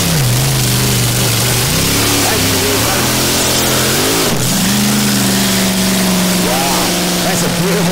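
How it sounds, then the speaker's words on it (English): A loud unmuffled racing hydroplane boat engine roars steadily on the Manning River, its pitch rising and shifting as it revs and accelerates, with no pauses. "The noise of these boats is incredible, folks, because they just come straight out of the zoomies."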